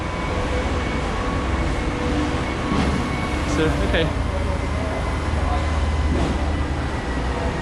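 A Macau Light Rail Transit train rumbles steadily along with constant low-frequency noise and a faint hum, while a person speaks briefly over it.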